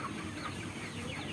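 Sonali super hybrid chickens cluck in a farm shed, a brief dense murmur of overlapping clucks from a flock at moderate distance.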